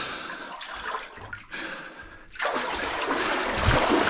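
Water sloshes and churns around boots wading through a flooded gold mine tunnel, swelling into a louder, steady rushing splash halfway through as the wader pushes deeper.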